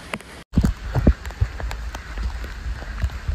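Monsoon rain falling on the trail up Karnala Fort, a steady close patter with scattered heavier drops and thumps after a brief dropout near the start.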